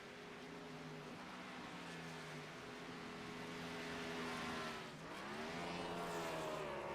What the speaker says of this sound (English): See what kind of burnouts he can do.